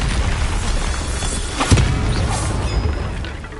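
A Bombarda blasting spell explodes in the video game Hogwarts Legacy, a single dull boom near the middle of the clip over dense, continuous game noise, with no one speaking.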